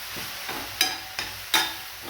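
Chili powder, salt, turmeric and coriander-cumin powder being stirred into mogri frying in a pan: steady sizzle under three distinct scraping strokes of the spoon, close and without speech.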